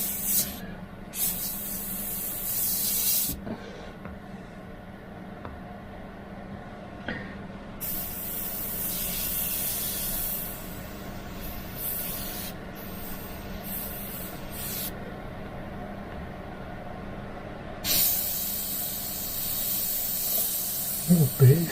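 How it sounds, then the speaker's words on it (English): An airbrush sprays paint onto a stone-textured skull in repeated hissing bursts, some several seconds long, separated by short pauses, close and fairly loud. "Just literally spray up to the edge of the paper."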